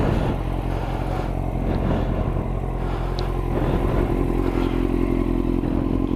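A 954 Blade motorcycle on a fresh set of Bridgestone BT016 tyres rides steadily, with a loud continuous engine drone, wind rush and road clatter and no voices.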